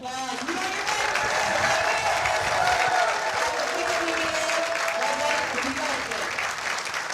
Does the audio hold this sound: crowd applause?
yes